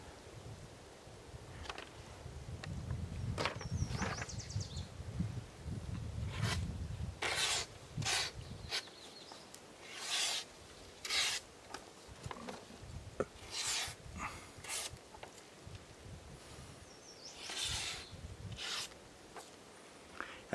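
Scraping strokes of a knife drawn through a sharpener, a series of short, fairly faint rasps at irregular intervals, with a low rumble early on.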